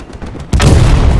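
A satchel charge blasts near a Panzer IV in the Hell Let Loose video game, a sudden loud, close explosion that cuts in after quieter background rumble and holds as a dense roaring boom.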